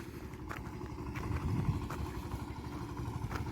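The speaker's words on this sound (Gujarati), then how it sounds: "ફરતી કોઈ ટ્રેક્ટર હાલે છે" A tractor engine on farm fields at sowing time chugs steadily nearby, a low, rumbling, continuous mechanical drone with faint knocking pulses throughout.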